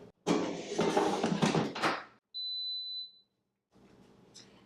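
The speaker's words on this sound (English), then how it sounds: "Let me slide the basket in so it'll turn on." A countertop air fryer gives a single sustained electronic beep as it powers on when its basket slides in, preceded by loud clattering handling noise and followed by quieter rustling.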